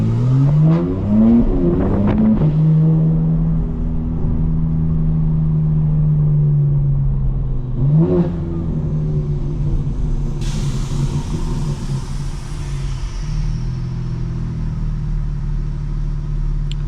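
A 2024 BMW M4 Competition xDrive's engine drones steadily while driving in automatic mode, a loud, low rumble that shifts pitch a couple of times, heard alone without talk.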